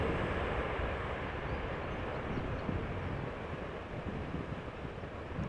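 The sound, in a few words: KLM Airbus A330-300 departing Schiphol in crosswind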